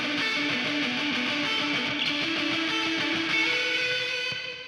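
A sustained, distorted lead electric guitar plays a melodic line with repeating echoes trailing each note, loud and steady throughout with no talking.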